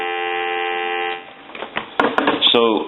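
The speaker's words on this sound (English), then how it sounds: "Give you some dial tone." A steady telephone dial tone from a repaired Mickey Mouse AT&T 210 phone sounds loudly for about a second, then gives way to handset clatter and clicks with someone speaking over them.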